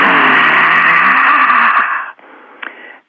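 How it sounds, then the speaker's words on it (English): A forceful voiced exhalation from a breathing exercise, a sustained loud rasping breath pushed out for about two seconds, then a brief softer breathy tail. "you breathe out, but you have to make a sound,"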